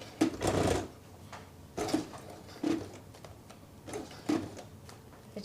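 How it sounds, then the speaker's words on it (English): A sewing machine stitching slowly in short bursts, four or five separate whirring runs with pauses between, fairly close and not very loud, with no talking over it. "we didn't kill the sewing machine, thankfully"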